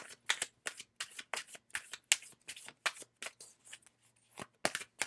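Oracle cards are shuffled and drawn, a fast run of crisp riffling flicks and slaps in bursts, close and clear, with a short pause before a final few snaps.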